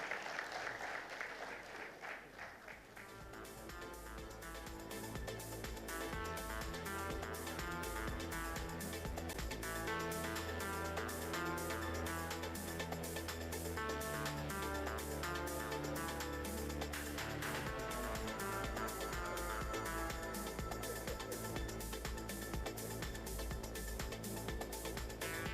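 Applause from the audience at a U.S.-India commercial space cooperation conference, a dense, steady wash of clapping that holds strong for the whole stretch, with music-like tones mixed beneath it.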